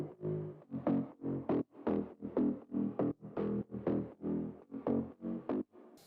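Synthesized mid bass built from two oscillators, played as a steady run of short pulsing notes in a regular rhythm, each a separate throbbing hit, solo and fairly quiet.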